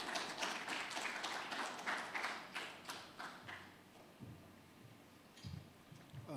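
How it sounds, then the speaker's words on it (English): Audience applause welcoming a speaker at the Ghana Institute of Architects AGM, dense clapping for about three seconds before thinning into scattered claps and settling down. "Please welcome with a round of applause."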